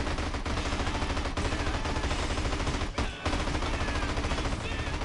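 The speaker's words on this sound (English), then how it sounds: "Just keep shooting till it's gone." Continuous rapid gunfire in GTA San Andreas, dense automatic bursts filling the whole stretch with a brief pause near the end, loud and steady with faint talk mixed in.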